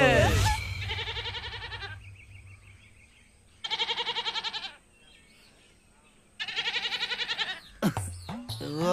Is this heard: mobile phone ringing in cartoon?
no